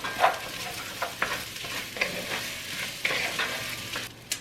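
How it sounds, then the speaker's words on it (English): Rice and tomato paste toasting and sautéing in a pot, a close, steady sizzle broken by repeated spoon scrapes and stirring knocks roughly every second, with no talking. "We're gonna kind of get that rice toasted a little bit."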